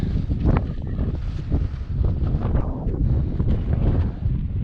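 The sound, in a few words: strong wind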